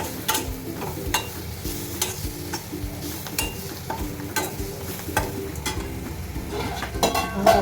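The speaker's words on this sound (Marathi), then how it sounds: "चांगलं हलवून घ्यायचं आहे, फ्राय करायचे आहे चांगलं मसाले" Okra being stirred and fried with spices in a pan, an even sizzle with frequent rhythmic spatula clicks and scrapes against the pan throughout.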